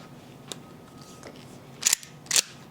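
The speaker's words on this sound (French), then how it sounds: "Maintenant, quand je l'arme et que je tire, mes plombs partent." An Umarex lever-action airgun loaded with pellets is handled with faint mechanical clicks, then two sharp, close snaps of the shots fired in quick succession.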